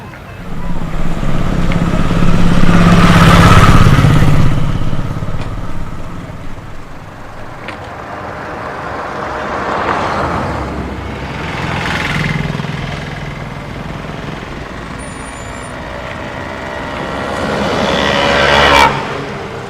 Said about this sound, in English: You can hear the engine of the car revving.